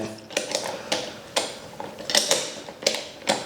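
Sharp metallic clicks and clacks come from fitting a wood block into a lathe chuck, several irregular knocks and ratchet-like snaps spaced across a few seconds, close and moderately quiet.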